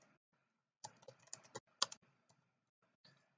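Typing on a computer keyboard while entering text in SketchUp: a quiet pause, then a brisk run of close, crisp key clicks with one louder tap, a gap, and a final short burst of keystrokes.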